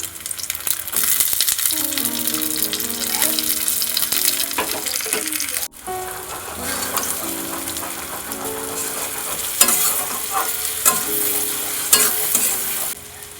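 Chopped onion, ginger, tomato and capsicum sizzle loudly in a hot pan, a steady close frying hiss broken by scraping stirs.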